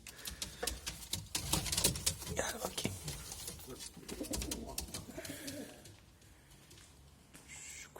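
Soft, repeated cooing of pigeons close by, mixed with wing flutters and shuffling, with a voice speaking underneath.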